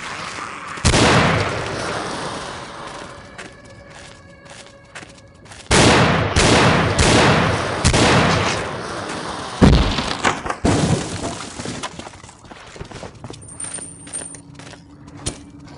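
Gunfire and a loud explosion in the zombie shooter Dead Epidemic (Land of the Dead: Road to Fiddler's Green), as a barrel is shot: several sharp, loud blasts spaced apart, with debris clattering and ringing afterward.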